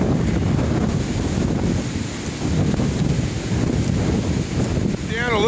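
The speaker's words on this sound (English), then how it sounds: "This wind is vicious, man." Strong, gusting wind on a Missouri River bank buffets the microphone with a steady, loud roar that fills the whole stretch, likely with water or surf noise mixed underneath.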